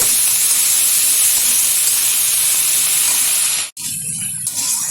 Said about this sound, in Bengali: এখন দিয়ে দেবো এর মধ্যে ধুয়ে রাখা শাপলা। একটু নেড়ে চেড়ে নেব।